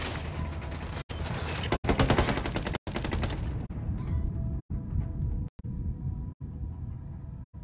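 Sustained automatic gunfire in Ghost Recon Wildlands, loud and close, with rapid shots broken by short pauses, then thinning into scattered bursts over game ambience.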